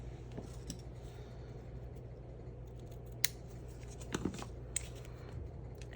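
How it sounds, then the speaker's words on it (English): Scissors snip ribbon while making a Christmas card, giving a few sharp, close, quiet cuts over a faint steady background hum, with no talking. "Let's add our ribbon. Let's cut that off."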